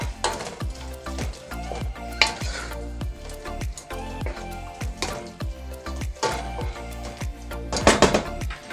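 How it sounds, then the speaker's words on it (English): Anchovies or red herrings fry in a pan for a Ghanaian kontomire spinach stew, giving a steady sizzle broken by repeated stirring scrapes and a busier burst near the end, over faint tonal background sound. "we are going to add the anchovy or red herrings at the same time"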